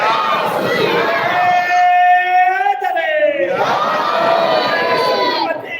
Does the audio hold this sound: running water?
no